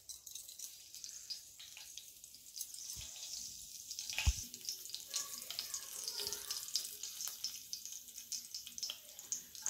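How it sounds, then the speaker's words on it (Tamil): Mustard seeds dropped into hot oil in a pan while making potato masala fry, crackling and sizzling steadily with scattered sharp pops and a louder snap midway, close by and with no voices. "எண்ணெய் காஞ்சிருச்சுங்க. கடுகு போடுறேன்."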